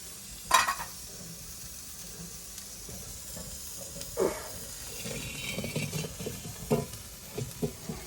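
Peanuts roasting in a pan, a low background hiss broken by several scraping, rattling stirs, each short and close, spread unevenly across the stretch.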